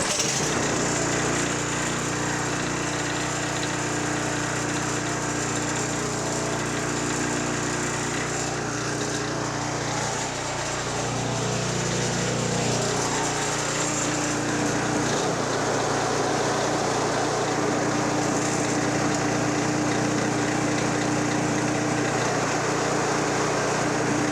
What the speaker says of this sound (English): It runs.